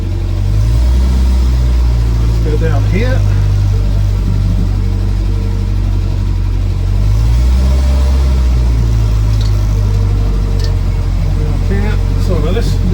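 A petrol Land Rover Series 2a 88-inch soft top drives along, its engine rumbling loudly and steadily with shifts in pitch as it moves, while someone talks over it.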